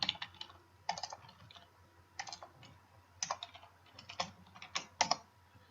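Someone typing on a computer keyboard, quiet close keystrokes falling in short irregular bursts separated by brief pauses, with no one talking.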